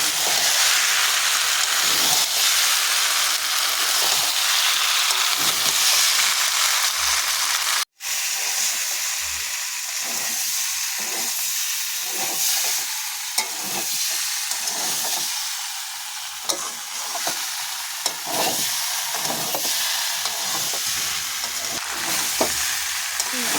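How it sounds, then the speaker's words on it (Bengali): Boiled potatoes stir-fried in a pan for sour alu dum, with a steady loud sizzle and hiss and repeated scraping stir strokes throughout, no talking. "আলুটা দিয়ে আবার একটু ভালো করে নাড়াচাড়া করে নেব"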